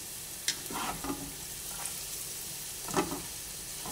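Sliced onions and broccoli fry in a pan with a soft, steady sizzle, broken by a few louder stirring scrapes and clatters, close by with no voices.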